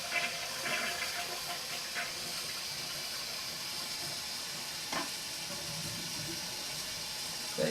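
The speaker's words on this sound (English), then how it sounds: "that's supposed to control how much water it uses when you flush the toilet" Toilet flushing from a full tank after its flapper was replaced, a steady rushing gush of water running throughout with a brief gurgle near the end, close by with no talk.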